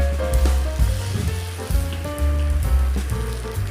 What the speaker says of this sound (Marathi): सर्व व्यवस्थित भाजून घ्या तव्यावरती।